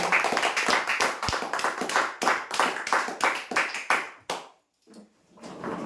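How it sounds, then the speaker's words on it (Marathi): Loud crowd applause rings out for a dressing-table prize winner at a lucky draw, sustained rapid clapping that breaks off near the end, pauses and then starts up again. "हे विजेते आहेत ड्रेसिंग टेबलसाठी जोरदार टाळ्या"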